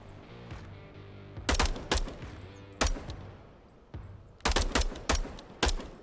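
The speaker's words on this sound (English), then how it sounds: "I want you to just try firing from that point at these targets" Bursts of rifle fire aimed at targets in a VR military simulation game, loud, close, sharp shots in quick clusters with pauses between strings, over a low steady background hum, no talk.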